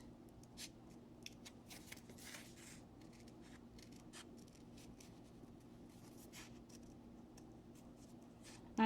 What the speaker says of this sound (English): then just cut around the circle